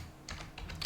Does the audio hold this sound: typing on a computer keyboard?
yes